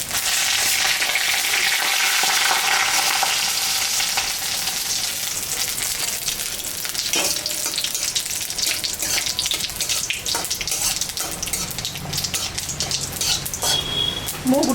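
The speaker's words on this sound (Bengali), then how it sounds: "এখানে জিরা আর শুকনো লঙ্কা সম্বরা দিয়ে দিলাম, দুটা তেজপাতা দিলাম" Cumin seeds, dried red chillies and two bay leaves sizzle steadily in hot mustard oil, a bright continuous crackle with occasional stirring and faint clinks toward the end.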